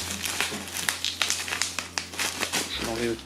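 Close crinkling and crackling of bubble wrap around the blades of a Rowenta VU5640F0 fan being unboxed, irregular bursts of rustling handled near the microphone.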